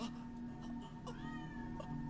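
A cat meows in the video game Silent Hill 3, a short, clear meow over a steady low game ambience, with no talking.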